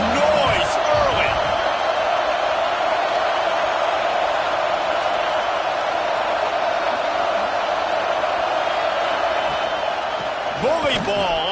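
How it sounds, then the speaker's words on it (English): A packed college football stadium at Ohio State hosting Georgia sends up a continuous loud roar, a broad wash of crowd noise with a few sharp thuds and whoops near the start and end. "This crowd bringing the energy and noise early."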